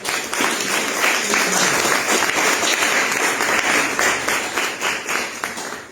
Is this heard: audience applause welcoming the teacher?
yes